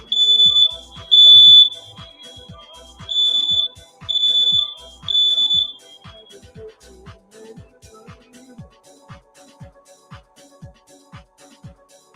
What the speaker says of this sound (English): We're cooking so well that the smoke alarms went off.